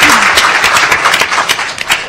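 Audience clapping for hotel staff at a policy summit lunch, a dense loud burst of applause from a room of people, steady for about two seconds.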